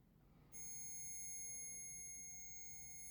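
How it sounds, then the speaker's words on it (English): A paranormal investigation sensor device gives off a sudden steady high-pitched electronic beep that starts abruptly and holds continuously, fairly close over a quiet room background. "Yeah, you see how it makes that beeping sound?"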